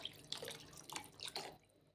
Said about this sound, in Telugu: ఒక గ్లాసు నీళ్ళు పోసుకుందాం